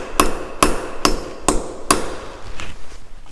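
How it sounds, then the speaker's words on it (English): A hammer delivers five sharp, evenly spaced whacks to a wooden tenon that rests on concrete. The blows sound close and loud, and a few softer taps follow them. "I'm just gonna give it a few whacks,"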